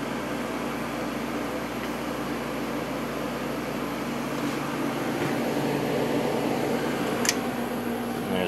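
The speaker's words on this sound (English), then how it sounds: "Compressor just started. It's got a Rotorex compressor" A window air conditioner on low fan with its Rotorex compressor just started, giving a steady, even hum and whoosh of air that stays loud and constant throughout, with no speech.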